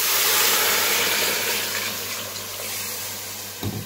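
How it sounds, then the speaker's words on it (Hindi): Water is poured into a pot of fried beef and potatoes, a steady loud rushing splash that runs for several seconds and eases off slightly toward the end, with a small clunk near the close. "अब हम इसमें ऐड करेंगे पानी"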